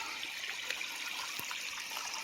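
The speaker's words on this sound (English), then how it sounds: "See if we can't get some of this water to flow better through that collapsed" Water flowing through a semi-collapsed culvert, a steady faint hiss and trickle with no voices.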